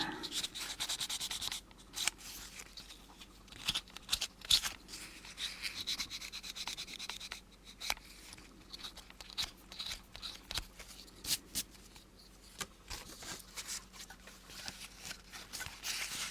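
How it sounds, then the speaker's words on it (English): Fine sandpaper rubs the edge of a skull head ghost box in short, scratchy strokes, close and fairly quiet, in uneven bursts separated by brief pauses. "And a little fine sandpaper just around this edge."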